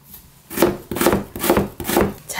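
A knife julienning radish on a wooden board, with four steady, close rasping strokes that each begin with a sharp cut and trail into a short scrape.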